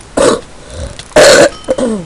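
A person coughs in three short, harsh bursts, close and loud, with brief quiet gaps between them.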